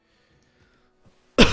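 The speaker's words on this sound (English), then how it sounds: "Have a little bit of a cough." A single sharp cough, loud and close, bursting out abruptly at the very end after near silence with only faint low background noise.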